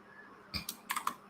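A few quick keystrokes clack on a computer keyboard against faint room noise, in a short burst of typing.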